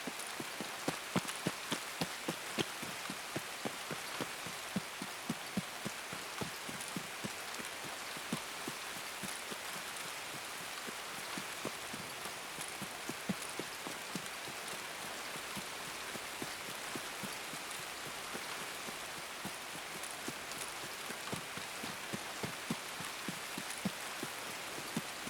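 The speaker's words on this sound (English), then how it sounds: "With the rain, nobody will be able to hear me." Steady rain pours down in a video game, with dense patter and scattered drops hitting surfaces continuously and evenly throughout, loud and unbroken, with no talking.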